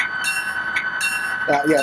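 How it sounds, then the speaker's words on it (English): A standard EMD cast bell on a ScaleTrains HO SD40-2 model locomotive rings in steady, regular strokes over the idling engine's electronic sound, with someone speaking near the end. "let's take a listen to the bell. It's a standard EMD cast bell."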